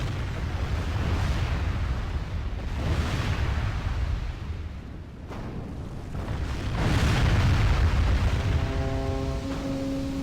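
Catapults fire in a Medieval II Total War battle: heavy rumbling booms and dense crashing noise swell and fade over a continuous din, with a brief steady tone near the end.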